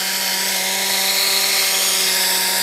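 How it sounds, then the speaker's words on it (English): A motorcycle headlight lens is sanded with 800 grit, likely by a power tool, giving a continuous steady whirring hiss with a constant hum, close and unbroken throughout. "You're basically sanding off a little bit of the coat."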